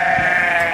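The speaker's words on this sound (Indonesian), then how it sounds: "Nah ini kita lihat sekarang domba makan okra ya." A sheep bleats in one sustained, fairly loud and close call while feeding on okra stalks on a farm.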